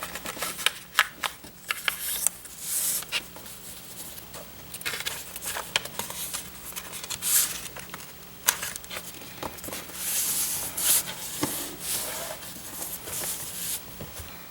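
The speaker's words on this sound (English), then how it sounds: "So now I'm going to fold right along that upper flat edge." Paper being folded along its upper flat edge, with a run of crisp crinkling, rustling and sliding scrapes, close and fairly quiet, irregular bursts throughout with no talk.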